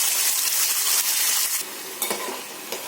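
A spice mixture fries hard in oil with crushed garlic and curry leaves for a spicy pomfret curry, giving a loud, close sizzle with a couple of brief stirring knocks near the end.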